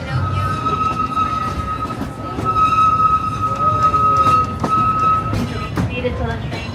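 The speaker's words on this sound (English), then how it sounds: "Welcome aboard the Disneyland Railroad." The Disneyland Railroad train rumbles steadily with a sustained tonal hum and occasional clanks, while a voice speaks over it like an announcement.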